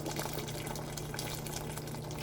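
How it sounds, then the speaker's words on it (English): Water poured into a pot of smothered meatballs and gravy, a steady splashing, trickling flow heard close and continuous, with nobody talking. "add a little bit more water."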